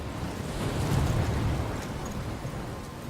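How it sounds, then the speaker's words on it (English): A steady, loud roar of wind and crashing surf from a stormy coastal scene in Life is Strange, dense rumbling noise without pause and no voices over it. "I'm trapped in a storm?"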